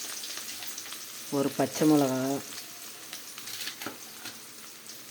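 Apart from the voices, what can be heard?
onions and mustard seeds frying in oil in a kadai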